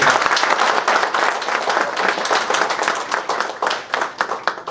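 Audience applause at a health team presentation event with a chief guest, dense sustained clapping from a crowd that thins slightly toward the end, loud and close.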